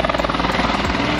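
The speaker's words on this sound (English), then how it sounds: "It actually takes us up in helicopter" A helicopter's rotor thumps in a steady, rapid rhythm over a loud engine roar, close and continuous with no voices, during a canyon swing outing in Switzerland.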